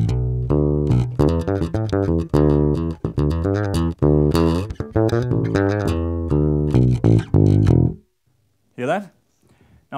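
Bass guitar with a humbucker pickup played through a TC Electronic BH500 amp with the tweeter turned fully up, a run of bright, loud plucked notes with clear string noise for about eight seconds, then a brief lone note after a pause.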